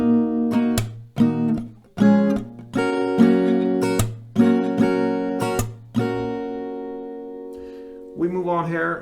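Strummed acoustic guitar chords ringing out in a steady pattern of down-strokes, several sharp strums then a long sustained chord fading, close and clear, ending with a brief bit of speech.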